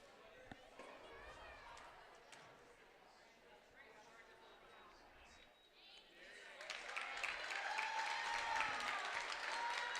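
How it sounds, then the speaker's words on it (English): A home crowd cheers and claps at a high school varsity volleyball regional match against Beal City at Houghton Lake, quiet at first, then swelling loudly in the latter half beneath a commentator's voice. "I hear the Beal City crowd."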